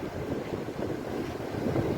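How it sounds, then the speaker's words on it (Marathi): Steady, roaring wind buffets the microphone with a low rumble, continuous and loud throughout, with no voices. "वार भरपूर आहे रे"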